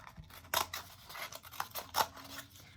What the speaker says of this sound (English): And then I'm going to go ahead and cut this off too, right here.